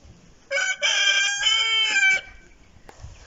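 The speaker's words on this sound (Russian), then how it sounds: "Так, вон там курятинки" A single rooster crows loudly and close by, one long call of about two seconds, with quiet farmyard surroundings before and after.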